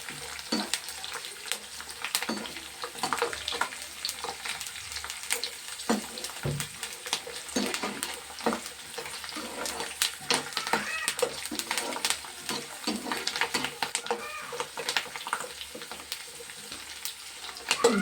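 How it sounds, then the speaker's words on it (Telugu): Curry leaves sizzle and crackle in hot oil in a pan, a steady close frying hiss with scattered pops and light stirring, no talking. "వేగాలవి వేగుతున్నాయి కదా, ఇందులోనే కరివేపాకు వేసేస్తాండి"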